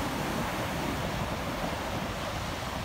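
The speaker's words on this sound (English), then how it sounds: "Look at that water coming in." Ocean waves wash in on Poodle Beach in Rehoboth, a steady broadband surf roar with wind noise, continuous and fairly loud with no distinct breaks.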